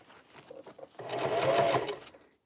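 A sewing machine runs on cotton denim for a bucket hat: a few short, soft stitch bursts, then one sustained, faster run of rapid needle chatter that stops cleanly, close and fairly quiet.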